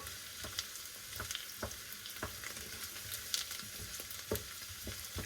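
Onions caramelizing in a frying pan for French onion soup: a quiet, continuous sizzle broken by scattered sharp ticks and pops, with occasional soft stirring scrapes, no voices.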